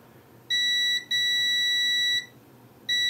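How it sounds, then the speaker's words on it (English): Three clean electronic continuity beeps from a multimeter tested on a capacitor of a faulty Nintendo Switch, uneven in length, the middle one longest, piercing and steady against a quiet background. "do I get a beep? I do, so I still get a beep on this cap."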